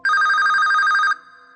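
A telephone bell rings loudly in one sustained burst of about a second, a steady trilling tone that cuts off abruptly, leaving a faint hum behind, with no voices.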